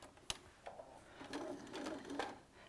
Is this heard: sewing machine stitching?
yes